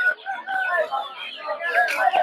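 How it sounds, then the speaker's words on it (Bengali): Tiger chicken chicks at a busy village poultry market chirp and cheep in a dense overlapping chorus, close and continuous, with brief louder peeps near the end. "দেখতে পাচ্ছেন এদিকে হচ্ছে টাইগার মুরগি বাচ্চা"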